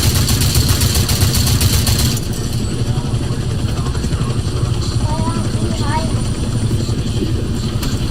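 Video game helicopter engine with a fast rotor chop and mid-pitched whine running steadily from start to finish, its rhythm loudest at first and then settling, as players talk over it.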